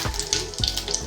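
Mustard seeds and cumin sizzle in hot oil, a steady crackling fry with a few sharp pops, close and moderately loud with no voices.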